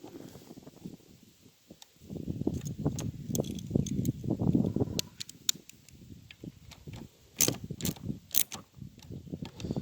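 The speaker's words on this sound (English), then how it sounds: "Grab your star bit. Tighten them down, snug them up." Screws being tightened into plastic with a star bit during a carburetor swap on a Troy-Bilt TB21EC pole saw, a faint ratcheting rasp in bursts with small clicks and knocks, close and quiet.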